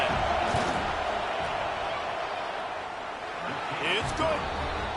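A stadium crowd in a college football video game, USC against Wisconsin, sends up a continuous roar as the field goal team lines up on fourth down, with a commentator's voice over the noise.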